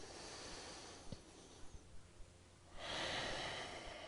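Breathing while holding a yoga pose, a slow airy exhale followed by a louder, fuller inhale, close and fairly quiet, with a few faint soft bumps in between.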